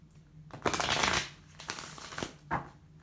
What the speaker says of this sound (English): Shuffle. Shuffle. And one more. Shuffle.